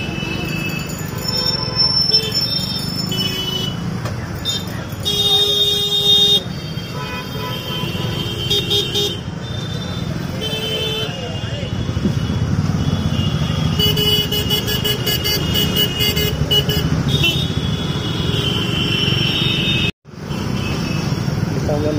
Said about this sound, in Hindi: देख रहे हैं आपको ट्रैफिक काफ़ी है।